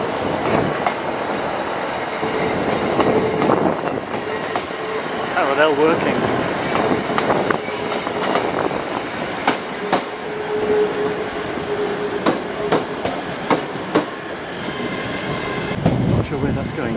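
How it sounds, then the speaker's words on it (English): An electric train moves through Glasgow Central station on a rainy day, a steady rumble with wheel clicks and a faint squeal, joined by station noise and a brief spoken announcement. "And an electric train!"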